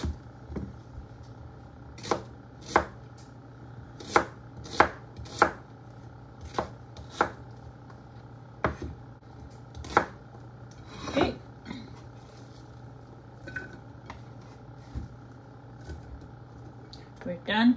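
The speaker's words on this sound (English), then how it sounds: "We're done cutting the onion." A knife chops through two medium onions on a cutting board in a home kitchen, a run of sharp, evenly spaced close-up chops with short pauses between them, and a steady hum in the background.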